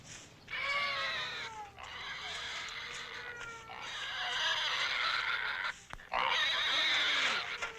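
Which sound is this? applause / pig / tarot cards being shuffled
pig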